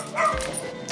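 An injured dog with a smashed pelvis gives a short yip and whimpering bark at a veterinary clinic, one quick close vocal burst.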